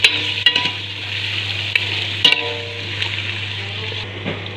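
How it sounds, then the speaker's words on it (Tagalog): Potatoes sizzle steadily in a hot pan, a constant hiss with a low electrical hum beneath, punctuated by a few sharp scraping knocks of a spoon stirring them. "isunod ko po yung patatas. At haluin lang natin guys"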